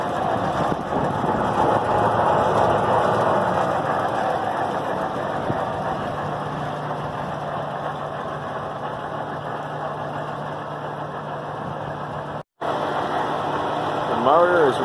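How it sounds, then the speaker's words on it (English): A Roskamp 12x18 roller mill's electric motor runs with a steady, quiet hum and smooth bearing whir, a constant mechanical drone lasting throughout with a brief dropout near the end. "The motor is running nice and quiet. Bearings are running nice and smooth."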